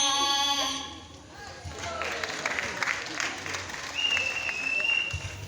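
An audience claps warmly for three child performers at a children's talent program, a short burst of applause that swells and holds, with a voice briefly heard over it.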